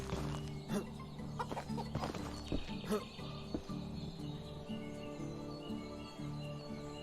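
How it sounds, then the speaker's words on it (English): Chickens clucking in a coop in a medieval life simulator video game, faint scattered clucks over a low steady background drone and game ambience. "Where are the chickens?"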